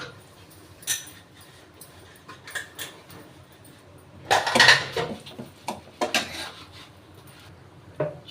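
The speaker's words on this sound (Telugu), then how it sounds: "రవ్వ వేసుకున్నాం కదా, దీన్ని కొంచెం గోల్డెన్ కలర్ వచ్చే వరకు ఈ రవ్వనైతే ఫ్రై అవనివ్వాలి." Semolina fried in a pan for badam halwa, with a spoon scraping and clinking against metal in sparse, irregular bursts, and a busier cluster of stirring clatter midway.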